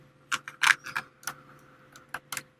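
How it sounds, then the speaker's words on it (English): Hard plastic packaging holding Spectrum Noir markers crinkles and clicks as it is handled, a sparse run of sharp, close crackles and taps with quiet gaps between them and no voices. "this packaging is pretty much impossible to get into. I've been working at it for about 5 minutes now."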